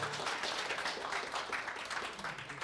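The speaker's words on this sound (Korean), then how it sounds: "우리 큰 박수로 맞이해 주시기 바랍니다" Applause from a church audience welcoming performers, a continuous dense clapping that stays steady and fairly distant through the whole short stretch, with no talk over it.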